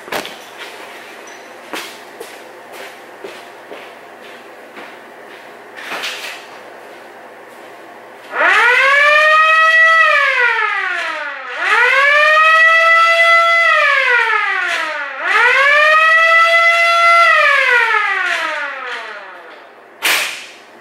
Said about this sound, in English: he installed one of those fire sirens in his car